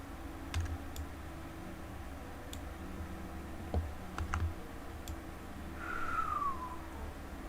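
A computer mouse and keyboard click sparsely as they are used for digital drawing, with a few isolated, fairly soft clicks over a low steady background hum and no talking.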